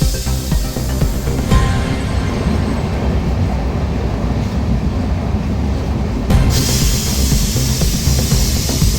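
A passenger train running on rails near Mangaluru after rain, a loud continuous rumble heard from on board with rhythmic wheel clatter and a brief shift in tone midway, no talk.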